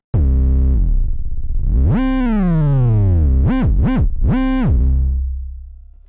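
A loud synth bass note swoops down in pitch, then jumps up and bends through a few quick wobbles before fading.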